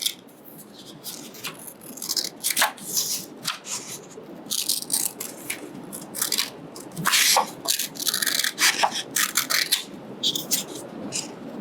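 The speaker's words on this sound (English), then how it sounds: "all you're going to do is cut along the lines you've drawn" Scissors snip through paper, cutting out square shapes for a craft mask, a run of crisp, close cuts and rustles in irregular bursts with no talking.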